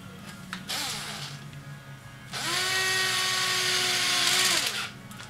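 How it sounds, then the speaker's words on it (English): A power tool runs cover bolts back in on a JK build: a brief whir first, then a longer high-pitched whine that holds steady for about two seconds before winding down, close up. "So with that, I can now run the cover bolts back in."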